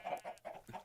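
Loud clucking of chickens in the Minecraft video game, several quick clucks in a row with brief pauses, close and alone with no talking.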